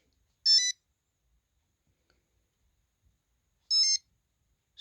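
Coin-collect chime from a Super Mario Bros Game & Watch handheld video game: two short, bright electronic beep bursts about three seconds apart, each a quick rising jingle, clear against silence.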